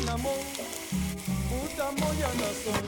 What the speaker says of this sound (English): All that water's kind of gone and we're just left with the oils, the melted fat from the bacon, the olive oil, and it's starting to fry